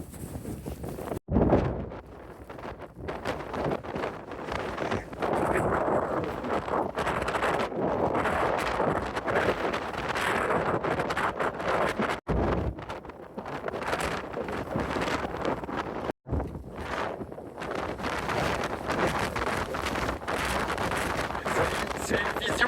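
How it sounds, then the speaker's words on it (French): Violent wind sweeps across the Gobi desert carrying ice crystals, a loud continuous roar and buffeting against the microphone with brief gaps, sustained for the whole stretch. "le vent est très violent et il emporte avec lui des cristaux de glace dans l'air"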